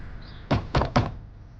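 Three firm knocks on a wooden door in an even rhythm, close and moderately loud, with a quiet background and no talking.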